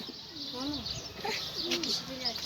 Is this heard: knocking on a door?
no